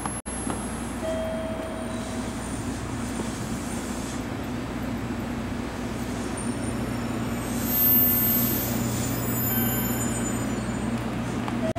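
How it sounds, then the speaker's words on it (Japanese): A local train pulls into Kamegawa station in Beppu, a steady low rumble of wheels and engine with faint squeals and a brief tone, heard from the platform at moderate distance. "列車が到着します。"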